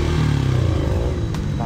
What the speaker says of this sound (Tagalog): Iyak na yung motor.